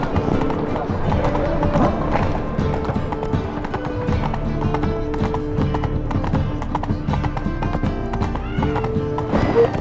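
Steady clip-clop of Geralt's horse galloping in The Witcher 3: Wild Hunt, hoofbeats running continuously and loud beneath a thick bed of game music, with an occasional neigh.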